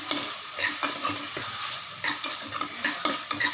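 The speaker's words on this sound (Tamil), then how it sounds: "இப்போ இஞ்சியை நல்லா வதக்கியாச்சு" Ginger sizzles in hot oil in a pan while a utensil stirs it, with bright frying hiss and repeated scraping strokes close up, no talking.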